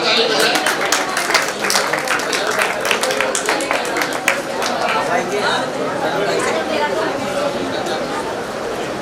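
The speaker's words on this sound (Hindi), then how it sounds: "आदित्य जी के लिए भी जोरदार ताली बजाएं।" Audience at a Jain community women's event clapping together in sustained, dense applause, loud and close, with crowd chatter and a voice over the top.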